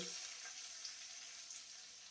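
Black cumin, dried chilli and bay leaf frying in hot oil in a pan, a steady bright sizzle with a faint stirring texture, close and continuous.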